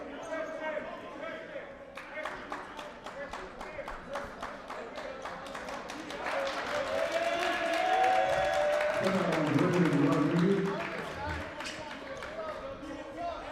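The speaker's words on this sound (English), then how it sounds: "We have a good crowd here tonight and a very enthusiastic crowd." An enthusiastic crowd cheers at a college men's basketball game, with rhythmic clapping and ball bounces building into a swelling roar in the middle, while an announcer talks throughout.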